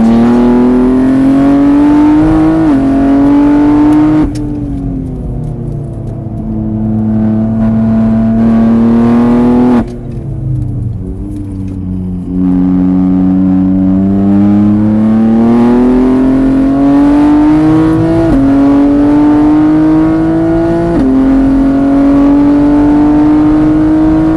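A vehicle engine on a track at Mireval revs loudly and close as the throttle opens, its pitch climbing in long surges with brief dips between gear-like shifts.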